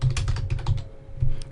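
Rapid keystrokes on a computer keyboard, close and clear, clicking in quick bursts with a short pause before a final flurry.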